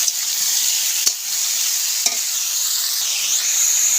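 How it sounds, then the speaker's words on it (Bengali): Ridge gourd pieces seasoned with salt and turmeric sizzle steadily in a hot pan, with two sharp clacks of a spatula against the pan as the vegetables are stirred up close. "নাড়াচাড়া করে ভালো করে ভেজে নেব।"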